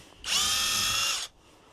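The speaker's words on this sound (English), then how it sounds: "And now we have a drill that works very well." A SeeSii 1/2-inch cordless impact wrench whirs loudly at high speed for about a second, starting and stopping abruptly, close up with nothing else heard.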